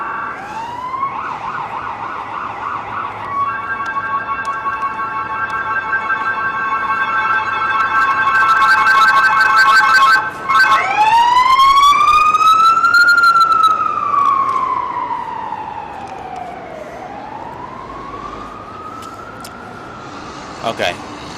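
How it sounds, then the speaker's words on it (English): Loud emergency sirens wail and sweep, shifting between fast yelping tones and long rising-falling cries, with traffic noise beneath. "Wait for the sirens to go, sorry."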